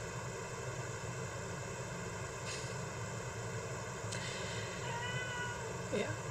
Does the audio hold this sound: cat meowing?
yes